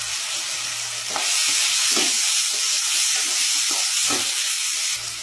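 Ginger and garlic sauté in a pan with a loud, steady sizzle and hiss, swelling as the pan is stirred, close up with no talking.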